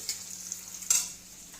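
Potatoes fry in a pan over a raised flame, giving a faint, even sizzle close by, with one soft knock near the middle and no talking.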